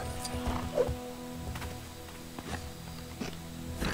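Hooves of a cow being ridden clop along at a walking pace in LEGO Jurassic World, soft irregular steps set against a steady game background hum.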